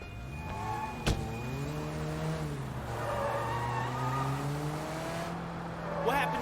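A car engine drones steadily while driving in the video game Sleeping Dogs, with a sharp impact thud early on and a brief tire squeal near the end.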